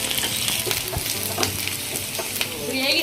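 Chopped onions and curry leaves fry in a pan with a steady, close sizzle, broken by occasional scraping stirs and small pops; no one speaks.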